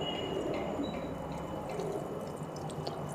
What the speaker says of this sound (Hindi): अब हम वाटरिंग भी करेंगे मनी प्लांट में